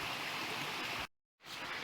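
Shallow creek water flows steadily along a riverside trail in a state park, a loud, close, broadband rushing that briefly cuts out before resuming.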